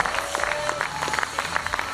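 A church congregation claps hands together, making a continuous patter of many overlapping claps at moderate volume. Faint murmuring voices sit underneath.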